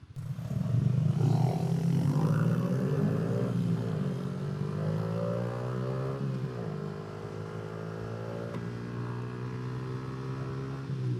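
A Yamaha MT15 motorcycle pulls away on quiet Bangkok streets, its engine note climbing steadily through the rev range in a smooth, droning rise, then settling into a sustained hum under acceleration.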